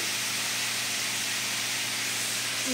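Garlic sizzling in hot oil in a pan while cooking Maithil fish curry, a steady broad hiss with faint low hum throughout, no talking.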